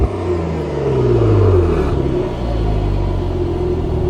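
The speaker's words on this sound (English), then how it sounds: "Okay, rev it." A Cadillac CT4 Blackwing, parked and stationary, revs loudly nearby with a rising engine roar that climbs, falls away, then holds a deep rumble against a soft limiter.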